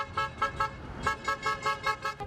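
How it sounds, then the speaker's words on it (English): Car horns honking in a street of the separatist city of Donetsk, a rhythmic run of repeated short toots at a steady beat, moderately distant and fairly faint against traffic rumble. "Russian flags and honking car horns in the separatist city of Donetsk."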